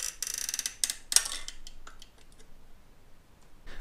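A CPU socket retention arm is pushed closed: a cluster of sharp metallic clicks and scraping snaps up close in the first second or so, then quiet handling.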